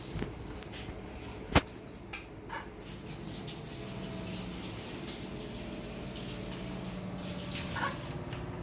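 Fish eggs being rinsed under running kitchen water, a steady splashing gush that continues throughout with a sharp knock early on and a few small clatters.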